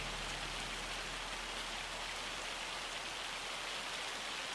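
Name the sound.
hail falling in video game Farming Simulator 25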